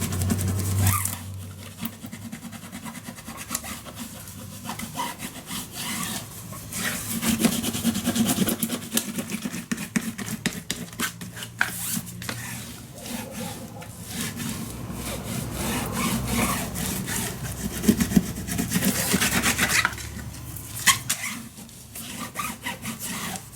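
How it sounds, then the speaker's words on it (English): Craft tape burnished firmly onto another strip of tape for a handmade folio, producing loud, continuous rasping rub strokes that run almost without pause. "Now turn it over and burnish that tape"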